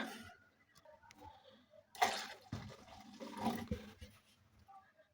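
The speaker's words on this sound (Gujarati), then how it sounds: "તો હવે એમાં એક નાના ગ્લાસ જેટલું પાણી ઉમેરીએ" Water from a small glass poured into a mixer jar of crushed amla, a short gushing splash that swells and fades over a few seconds, close by and alone.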